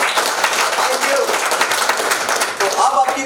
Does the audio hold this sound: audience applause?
yes